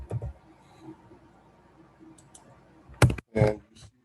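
Several sharp plastic key presses on a graphing calculator, a few soft taps early and two louder clustered clicks near the end, close and otherwise quiet.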